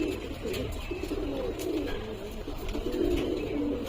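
A pair of loft pigeons, one male and one female, cooing and fluttering together as they are released outdoors, a steady low cooing texture with soft rustling, moderately near and continuous.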